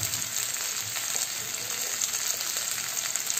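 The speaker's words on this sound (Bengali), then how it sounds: "এবার এর মধ্যে দিয়ে দিচ্ছি টমেটো কুচো" Chopped tomato frying in a pan with salt for a pointed gourd, potato and prawn curry, giving a steady close sizzle and crackle throughout with faint stirring and no talk.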